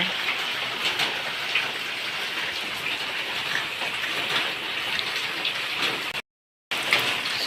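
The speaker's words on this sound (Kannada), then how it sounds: "ನೋಡಿ ಮಳೆ ಬಂತು" Rain falling steadily on a cloudy day, a dense, even hiss of drops on surfaces that fills the whole stretch, with a brief cut near the end and no talking.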